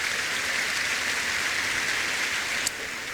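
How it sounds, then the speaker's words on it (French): A church congregation applauds loudly, a dense, even wash of clapping that fills the whole stretch at steady volume, with no voices rising above it. "Acclamez très fort pour le Seigneur"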